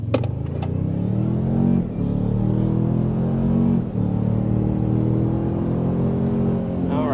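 A 2025 Toyota Sequoia with a twin-turbo V6 hybrid powertrain accelerates hard past 60 mph, heard from inside as a steady, loud engine drone that climbs in pitch through two brief shifts, with no talk.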